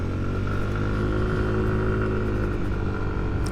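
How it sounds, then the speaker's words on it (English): A 2025 Yamaha NMAX scooter engine runs steadily after restarting on a throttle twist, a close, continuous low drone with a humming tone and no speech. "Then you just twist the throttle and it restarts."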